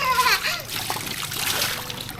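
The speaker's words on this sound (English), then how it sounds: "You're splashing the neighbors over there." A small child splashes water outdoors at a new house, giving bright irregular splatters and trickles close by while a voice chatters over the splashing.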